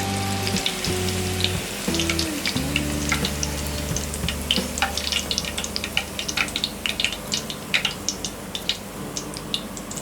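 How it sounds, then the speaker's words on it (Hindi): Cauliflower pakoras deep frying in hot oil over a medium flame, a dense continuous sizzle and crackle of bubbling, steady and close, with a few faint knocks and clinks early on and no speech. "इसी तरह हम बाकी सारे कॉलीफ्लावर पकोड़े भी फ्राई कर लेंगे।"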